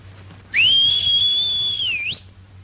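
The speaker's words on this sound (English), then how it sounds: "Give him a whistle." A single long, clear, high whistle blown to call a horse in a 1943 Western, held steady for about a second and a half with a slight dip and upturn at the end, alone over a faint background.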